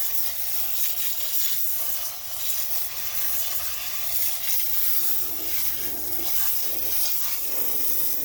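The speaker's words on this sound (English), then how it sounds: "But I'm going to wash these out really good." Water rinsing out a rock tumbler barrel holding chevron amethyst, a steady, close, broadband hiss of running water that continues unbroken with no talking.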